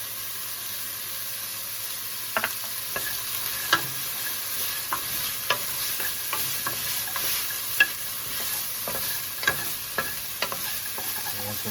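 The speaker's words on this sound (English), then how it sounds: "now we should be good to add the garlic in" Garlic frying in a beef stew pot gives a constant soft sizzle, with a run of sharp spoon scrapes and clinks against the pot at irregular intervals and no speech.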